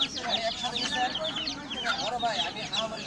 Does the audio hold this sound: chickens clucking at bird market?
yes